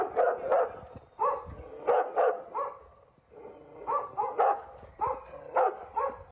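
A dog barks repeatedly at a bear outside a house in Sinaia, Romania, sharp medium-loud barks in irregular bursts with a brief pause midway, over faint background noise.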